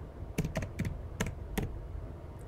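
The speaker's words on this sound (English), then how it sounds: "So let me type in a question and press minus." Several sharp, separate keystrokes on a computer keyboard sound close up in a quiet room, tapped in a quick uneven cluster and followed by a pause with one faint final tap. No one speaks.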